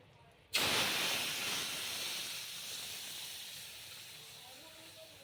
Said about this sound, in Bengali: তেলটা গরম হয়ে গেছে এইবারটা পাঁচফোড়নটা দিয়ে দেবো এর মধ্যে